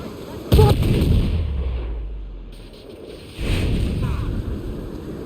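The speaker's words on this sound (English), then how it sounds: "Cannon ready! Guns out!" Ship cannon fire in the Assassin's Creed IV naval game: a sharp, loud boom with a deep rumbling tail, then a second muffled burst a few seconds later over steady sea and wind ambience.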